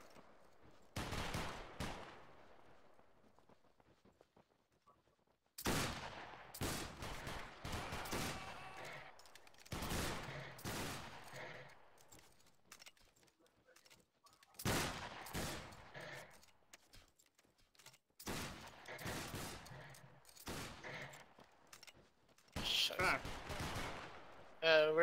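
Musket volleys in a Battle Grounds 3 line battle video game, several loud cracking bursts a few seconds apart that echo and fade between shots, with voices talking at times.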